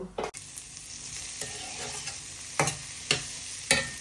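Potato masala with turmeric and red chilli powder sizzles in a pan, a steady close frying hiss broken by several sharp spatula scrapes and taps.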